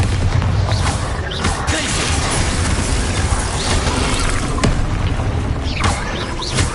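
Bombarda spell blasts in Hogwarts Legacy, a continuous loud barrage of booming explosions and clattering impacts filling the whole stretch, with a few sharper bursts standing out.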